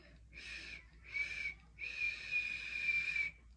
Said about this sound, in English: it's just a little bit of wind that comes out my mouth